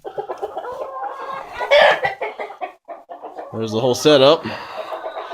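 Chickens crowd inside a cold winter coop in snowy Montana, clucking and squawking busily all at once with louder bursts, close by, while someone talks briefly over them.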